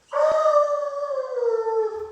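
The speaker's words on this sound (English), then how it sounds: "Charlie the Hound Dog has a big part." A hound dog lets out one long, loud, clear howl up close. It starts with a sharp onset, holds a steady sustained tone, and slowly slides downward before fading out.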